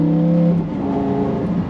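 A Lamborghini Gallardo accelerates while being driven, its engine a loud, close, steady drone that climbs in pitch, with no talking over it.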